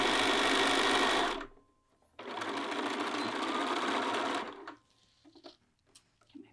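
A sewing machine chain-stitches fabric pieces from seam to seam, two loud sustained runs of rapid whirring separated by a short pause, followed by quiet handling sounds.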